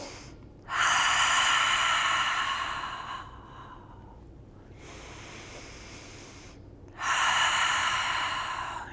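Deep breaths during a yoga session, two long, close, airy exhales separated by a quieter pause, with no talking.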